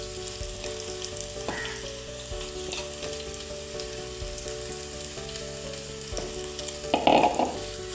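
Chopped onion, green chili and ginger sizzle steadily in hot oil for a homestyle Kerala crab curry, a continuous close frying crackle with occasional stirring scrapes and a louder burst of sizzle near the end.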